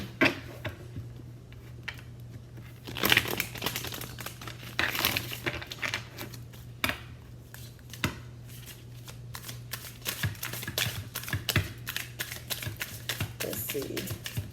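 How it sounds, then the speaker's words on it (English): Tarot cards are shuffled over and over, a steady papery riffling and flicking with soft taps, close by, with a low hum underneath. "Let's see, 2 more cards. I'm gonna shuffle."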